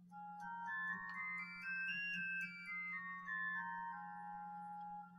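Simulated Bach organ from Arnstadt playing its sesquialtera stop alone, a two-rank mixture: a bright, reedy melody of overlapping held notes descending gradually, faint and solo over a steady low hum.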